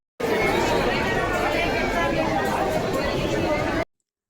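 Dense crowd chatter in a busy temple darshan queue in Nashik, a steady babble of many overlapping voices filling the space at close range without pause.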